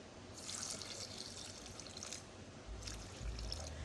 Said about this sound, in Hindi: अब मैं वाटर इतना डालूंगी कि इसमें जो अंगूर है ना वो डिप हो जाए।